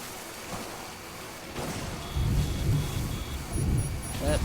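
Steady rain with rolling thunder builds and swells in waves, loud and close, in a Death Stranding timefall storm within the video game.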